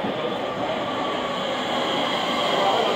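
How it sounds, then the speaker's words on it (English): A London suburban train pulls into the platform at Penge West, a steady rumbling roar with a faint high whine that swells slightly as it draws nearer. "Here comes our train."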